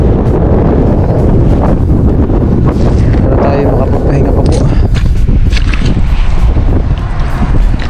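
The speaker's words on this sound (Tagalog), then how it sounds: "Hangin na po." Wind gusts hard against the microphone on open water near a small fishing boat, a constant loud roar and buffeting that runs the whole time under a man's speech.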